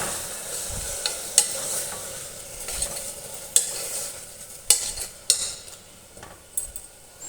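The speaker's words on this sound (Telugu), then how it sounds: "ఇందులోకి టమాటా యాడ్ చేసుకుందాం. యాడ్ చేసి బాగా మిక్స్ చేసుకోవాలన్నమాట." Tomatoes fry in a pan for a pigeon pea masala curry, giving a steady close sizzle broken by sharp spoon scrapes and clinks against the pan every second or so, with no voices.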